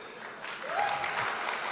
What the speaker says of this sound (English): Please give a round of applause to our minister